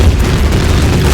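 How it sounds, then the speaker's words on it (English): Explosions in a space battle video game make one dense, continuous rumbling boom that stays loud and close throughout. "Taking damage, seeing explosions."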